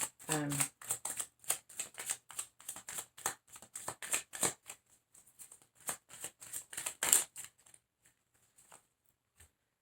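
Tarot cards are shuffled by hand in quick, close riffling bursts with a steady patter of card slaps. The shuffling thins out and ends after about eight seconds, with a brief sharper snap near the end.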